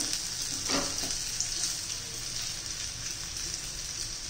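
Vada batter made from raw potato and varai sizzles in hot oil, a steady close crackling hiss with a brief splash-like burst early on as a spoonful goes in, continuing evenly at moderate loudness.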